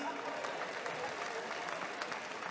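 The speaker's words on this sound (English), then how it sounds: "Senior citizens, give yourself a round of applause, please." Faint, distant applause from a comedy festival audience at Carifesta 2017, a soft continuous patter of many hands with a little crowd noise.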